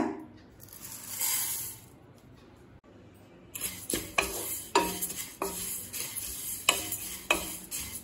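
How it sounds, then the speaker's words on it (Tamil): Poha (flattened rice) being dry-roasted in a pan, a quiet hiss at first, then a run of rhythmic scraping and stirring strokes with light rustling, close by and without talk. "இப்போ அவல் நல்லா கிறிஸ்ப் ஆகிற வரைக்கும் வறுத்துக்கலாங்க."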